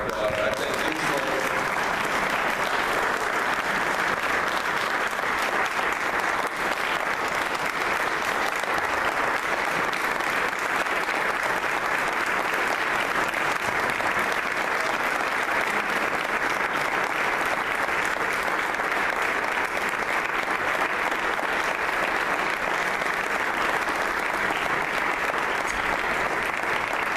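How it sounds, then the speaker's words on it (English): A large audience applauds steadily and loudly, a dense wash of clapping that continues without a break for the whole stretch. "let's give a big round of applause"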